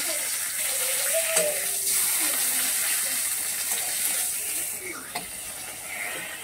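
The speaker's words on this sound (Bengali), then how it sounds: "কাতলা মাছের পেটি ছিল, সেইটা আর কাতলা মাছের ডিম ছিল, সেটাকে ভেজে নেব।" Katla fish belly pieces and fish roe frying in a home kitchen, a moderate sizzle with stirring and clinking of a utensil against the pan, plus a few sharp knocks.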